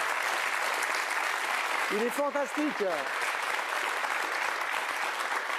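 Studio audience applause for a French footballer, a dense steady wash of clapping throughout, with a voice speaking briefly over it midway.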